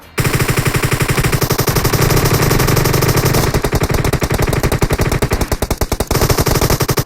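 Sustained rapid automatic gunfire in the mobile battle game PUBG Mobile, loud, close and continuous bursts of rattling shots with no pause.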